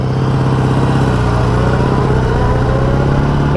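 Honda Goldwing motorcycle engine running steadily at idle, a continuous low throbbing hum close by with no voices.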